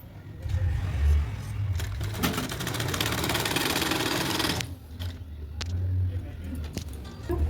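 Sewing machine stitching a fabric piping strip for a blouse, running in a steady continuous whir with a loud busy stretch in the middle before it eases off.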